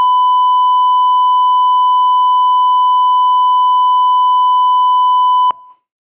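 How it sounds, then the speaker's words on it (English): A loud, steady electronic beep sound effect holds one pure tone for about five and a half seconds, then cuts off abruptly with a brief click. "I had to find the beep noise on here"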